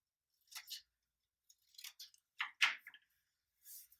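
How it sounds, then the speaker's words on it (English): Scissors snipping paper into small triangle shapes for a children's craft: a handful of quiet, short cuts in irregular bursts separated by silence, close and with no voices. "I'm just gonna use my scissors to cut two little triangle shapes for the ears"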